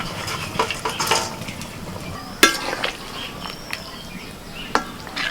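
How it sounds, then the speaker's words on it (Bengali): Fried fish is added to a brinjal curry in a pan with green chillies, a quiet simmering sizzle with a few clinks and scrapes of a utensil against the pan, one sharper knock, and no talking. "ভাজা মাছগুলো এবার দিয়ে দিচ্ছি"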